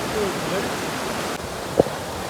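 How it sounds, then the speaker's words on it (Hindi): A mountain stream flows on a trek route near Tosamaidan, a steady broadband rush of water that holds throughout, with a single brief knock near the end and faint whistle-like tones early on. "चलो पानी देखो, पानी कितना है।"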